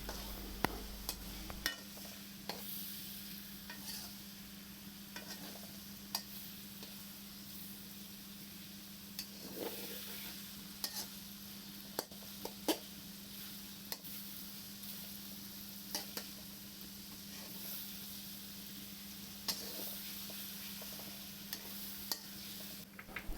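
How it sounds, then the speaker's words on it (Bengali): Onions fry in a pan for a rui fish curry, with a quiet, constant sizzle and a spatula scraping and clicking at irregular intervals. "পেঁয়াজগুলোকে একটু নেড়ে চেড়ে আমি ফ্রাই করে নেব"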